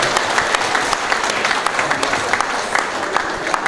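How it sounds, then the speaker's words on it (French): Wedding reception guests applaud the couple loudly, a thick sustained wash of many hands clapping with sharper claps poking through, no voices on top. "qu'on les applaudisse encore très très fort,"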